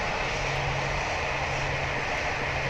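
Airliner jet engines in the PTFS flight game spool up as a Boeing 737 or Airbus A320 throttles up to taxi, a steady loud droning roar with a low hum running throughout, no talk over it.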